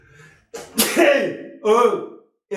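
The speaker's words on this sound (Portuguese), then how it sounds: "Pô, só um espirro." A single close, sharp sneeze bursting out after a short breathy intake, followed by a brief vocal sound, with a moment of quiet after.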